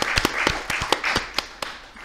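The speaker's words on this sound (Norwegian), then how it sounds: "Applaus til rumpetrollene." Scattered applause from a small audience in a hall after a team-name contest winner is announced: a handful of distinct, uneven claps, close and sharp, with a light patter between them.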